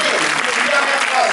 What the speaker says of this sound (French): Je vous propose de les applaudir une dernière fois.